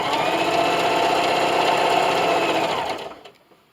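A sewing machine stitches a quilt-as-you-go table runner in one steady, close, whirring run of rapid needle strokes, then slows and stops near the end.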